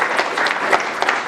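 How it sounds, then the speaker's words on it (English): A conference audience applauds a panel: a short, brisk burst of clapping from a crowd, fairly close and loud, with no talk over it. "Oh yeah, a round of applause"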